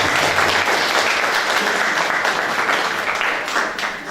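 An audience at a poetry evening applauds the author of a poem, a steady, dense round of clapping that fills the whole stretch and fades slightly toward the end.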